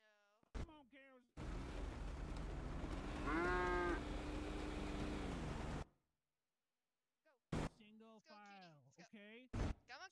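Cows in a GTA role-play game mooing, a long loud bellow over a rumbling wash of noise, with brief moo-like calls and bursts either side.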